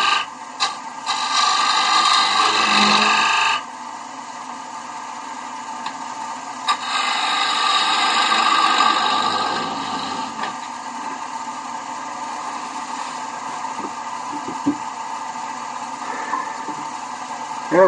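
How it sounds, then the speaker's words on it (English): A wood lathe spins a candlestick blank as a tool squares the sides and shoulder of a tenon, giving bursts of loud scraping and rasping cuts over a steady motor hum, with quieter stretches between cuts. "And I'll square up the sides and shoulder of the tenon."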